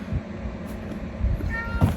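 A cat gives a brief, faint meow inside a van, around the middle of the stretch, over a steady low rumble and some light knocks.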